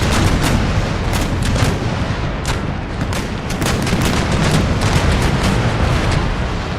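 A massed cannon barrage thunders through an Empire: Total War battle at the Ivory Coast, with dense, overlapping booms and sharp reports packed together continuously, loud and without pause.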